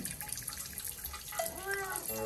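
Steady water spray from a shower hisses throughout as a cat climbs into the bathtub, with a voice talking briefly in Korean over it near the end.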